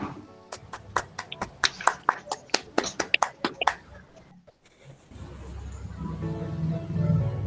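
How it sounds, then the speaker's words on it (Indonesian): Quick, evenly spaced claps from a small audience at the close of an online sharing session rattle out for about three seconds, then stop and give way to a faint murmur and background noise. "Tepuk tangan untuk kita semua."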